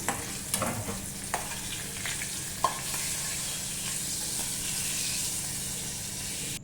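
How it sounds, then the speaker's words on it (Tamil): A tempering of cumin, pepper and cashews fried in oil and poured into foxtail millet pongal, a dense close hiss and sizzle with a few spoon clinks early on, steady throughout and without voices. "ஜீரா மிளகு முந்திரி தாளித்ததை கொட்டியாச்சு"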